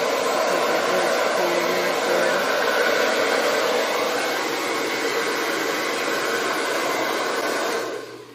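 A hair dryer on its low setting blows steadily across pooled paint in a Dutch pour, a loud constant whooshing drone that holds for several seconds before tapering off at the end.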